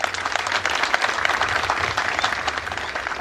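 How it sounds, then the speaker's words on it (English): Crowd applause for the Assam Rifles at a public gathering in Nagaland, a dense, fairly distant wash of many hands clapping with a low rumble of background noise underneath. "So let's have a round of applause for the Assam Rifle."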